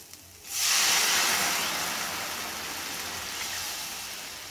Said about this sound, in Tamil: சரி இப்போ தண்ணி சேர்த்துக்கலாம்